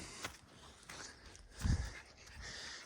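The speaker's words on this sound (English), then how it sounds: "The little ones, the little doggies." Small dogs panting faintly nearby, with soft whimpers and a brief louder snuffle partway through, set against quiet background noise.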